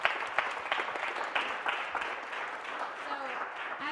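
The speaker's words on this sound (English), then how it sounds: "let's give a round of applause for Lisa Iulo" An audience claps for speaker Lisa Iulo at a sustainability showcase talk, dense steady applause from a room of people lasting the whole moment, with a faint voice or two mixed in beneath.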